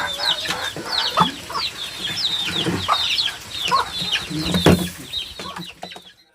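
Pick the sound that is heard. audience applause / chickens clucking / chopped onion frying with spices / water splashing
chickens clucking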